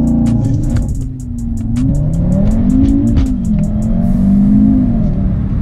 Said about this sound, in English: Let's put it in launch control, and I'll show you just how good this car is.